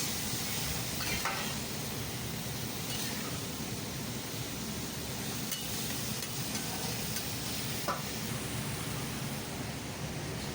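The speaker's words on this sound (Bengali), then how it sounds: "চিকেনগুলোকে ফ্ল্যাট গ্রিলে হালকা শেয়ারিং করে নিতে হবে" Chicken pieces for chicken tikka searing on a flat grill, a steady broadband sizzle running throughout with a few faint clinks, no talking.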